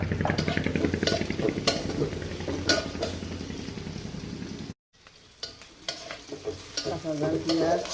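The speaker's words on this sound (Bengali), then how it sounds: "পেঁয়াজ কাঁচা ঝালটা দিয়ে দিলাম আর পেঁয়াজ কিছু ভেজে নেব।" Onion and green chilli frying in oil in a pan, with a steady sizzle and stirring scrapes up close; there is a short cut to silence partway through before the frying resumes.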